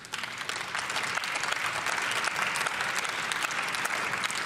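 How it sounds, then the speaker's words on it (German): Sustained applause from members of the German Bundestag after a speech on the basic pension, dense and steady throughout without pause. "Applaus"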